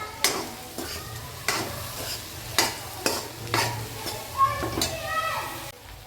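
A spoon stirring turmeric and salt into a street-style sandwich filling in a pan, with a series of sharp scraping clinks at a steady rhythm over a soft sizzle, close up.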